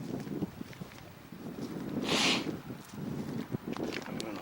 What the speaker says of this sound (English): very windy here and stuff,